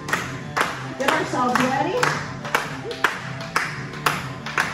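Line dancers clap their hands in a steady, evenly spaced rhythm of sharp, close claps during a line dancing session, while an instructor talks over them.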